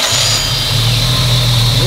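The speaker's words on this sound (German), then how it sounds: "Jetzt hörst du nur den Motor." A car engine running on an engine dynamometer test bench, a loud, steady mechanical hum with a high-pitched whine above it, continuous and without talking.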